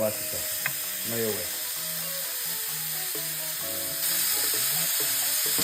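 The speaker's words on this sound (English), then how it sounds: "now I'm putting the steak in a hot pan with a little bit of olive oil" A faint, steady sizzle of steak searing in a hot pan with a little olive oil, with clinks and scraping close by and a brief voice underneath.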